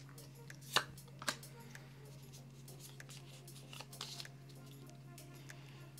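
A Pokémon Sun and Moon base set booster pack being torn open and its cards handled, with two sharp crinkling tears early on, then soft rustling and shuffling under a steady hum.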